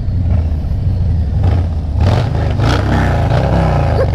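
A motorcycle engine and exhaust rev loudly and up close in short bursts over a steady rumbling idle, with clattering road and wind noise mixed in.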